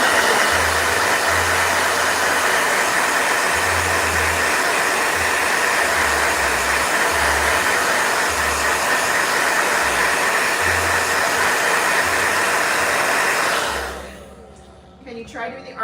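A blow dryer runs loud and steady with a constant airy roar for most of the stretch, with voices faintly underneath, then cuts off abruptly near the end.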